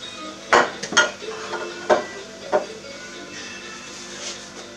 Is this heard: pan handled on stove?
yes